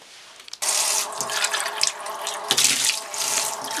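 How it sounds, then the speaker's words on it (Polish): Tap water runs into a sink while pet bowls are filled and washed, a steady splashing rush that starts abruptly after a brief quiet moment and continues loud and close with shifting gurgles. "Teraz idę sobie wymienić miseczkę z wodą i umyć miseczki."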